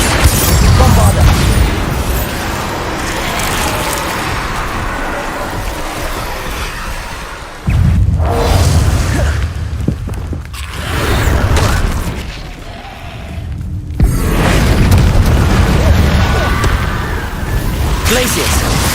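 Bombarda spell blasts go off in the video game Hogwarts Legacy, with deep, booming explosions bursting out at intervals over constant busy game sound and voices.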